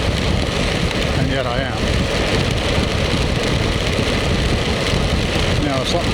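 Rain while riding a motorcycle: a steady, loud hiss of rain and wind rush over a low engine drone, with someone speaking briefly through it.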